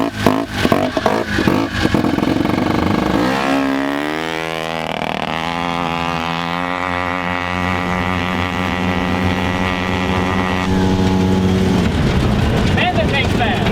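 Turbocharged rotary-engine ATV accelerating hard in a drag race, a loud rising engine howl that climbs steadily in pitch through the gears, sustained and close, with rougher revving at the start.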